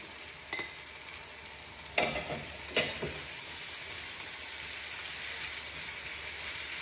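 Tomatoes frying for Lebanese eggplant moussaka, a steady broad sizzle across the whole stretch with a few sharp clicks and clatters from stirring near the start, no voices.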